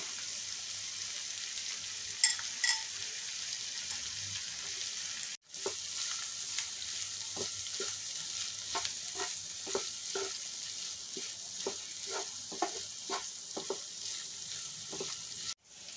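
Cluster beans fry in a pan with a steady soft sizzle, broken by a brief pause and then scattered crackles and pops as they are stirred, close and without voices.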